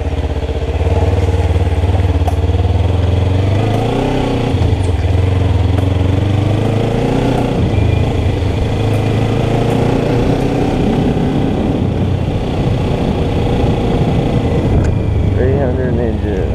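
A 2014 Kawasaki Ninja 300 motorcycle ridden off-road on muddy dual-sport terrain, its engine droning loud and steady for the whole stretch with pitch rising and falling as the throttle changes, while a person talks over it.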